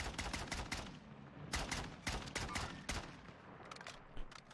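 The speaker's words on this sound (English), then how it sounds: "his teammates are shooting at us right now" Rapid bursts of automatic gunfire from a Warzone firefight, loud and close, coming in repeated clusters of shots with short gaps between volleys.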